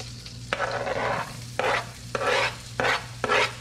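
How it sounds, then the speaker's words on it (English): Onions tossed into a hot pan of sizzling shepherd's pie meat mixture, with a steady frying hiss beneath repeated bursts of scraping as a utensil stirs, roughly five stirring strokes in a close, busy rhythm. "That's nice and hot. Maybe a little too hot. We're gonna add our onions."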